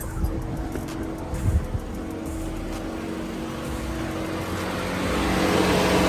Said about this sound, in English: The fans are going like mad, as if the car is like overheating or something.